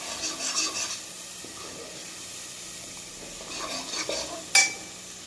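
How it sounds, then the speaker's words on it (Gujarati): Spices frying in oil for a dal tempering crackle softly while a spoon scrapes and stirs them in the pan, ending with one sharper clink of metal near the end. "તો મસાલો સરસ વઘારી દીધો છે, હવે નાખવાની કેરી।"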